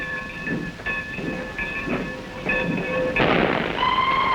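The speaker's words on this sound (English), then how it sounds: "A new steam locomotive with its engine scientifically encased in shiny metal." A streamlined steam locomotive with its engine encased in shiny metal, rated at an estimated 2,800 horsepower, running with a steady rhythmic chuff and rumble under sustained whistle-like tones, loud and continuous with no talk.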